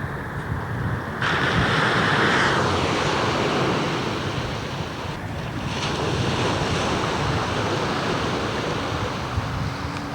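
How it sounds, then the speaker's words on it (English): Waves and wind on the beach at Brighton make a continuous roar of surf, with gusty wind buffeting the microphone and occasional swells in loudness. "This is the great beach at Brighton."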